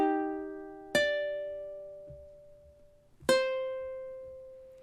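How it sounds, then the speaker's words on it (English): Two strummed ukulele chords from bar 12 of a song, each a bright attack ringing out and slowly fading, the second about two seconds after the first, played alone and close. "So measure 12 in time should sound something like this."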